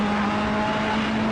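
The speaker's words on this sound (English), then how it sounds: "A beautiful sound of the Ferrari there, gotta love it." Ferrari race car engine in a racing video game set at Bathurst, a steady sustained high-pitched drone held at constant revs, loud and close with no talk.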